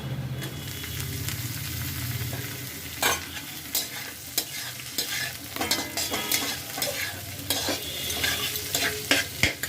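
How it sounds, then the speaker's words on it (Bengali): Fried vegetables and onion being stir-fried in a large wok for winter vegetable chow mein, a steady close sizzle with repeated sharp scraping and clattering strokes of the spatula. "এবার আমি ভেজে রাখা সবজিগুলো এর মধ্যে সব দিয়ে দেবো"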